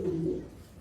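Ornamental pigeons give a low, throaty coo, two close rolling notes, loud and near, that fade into quiet background hum.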